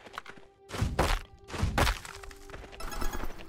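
Chopping a tree in the farming game Potion Permit: two heavy wooden thunks close together, followed by lighter cracking and clatter as the tree gives way, near and clear.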